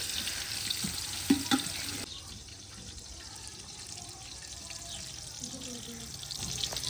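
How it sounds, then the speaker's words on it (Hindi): A steady hiss of onions frying in ghee in a pan, softening partway through, with faint scraping and a light voice nearby. "तो प्याज को बिल्कुल हल्का सा हमने लाल करना है, हल्का सा ब्राउन बस।"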